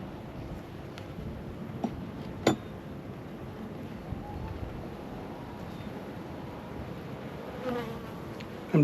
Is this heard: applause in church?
no